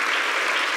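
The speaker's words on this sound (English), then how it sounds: "let's just give Dr. Levatino a big round of applause" Brief, dense applause from a large audience for the speaker Dr. Levatino, loud and unbroken from start to finish.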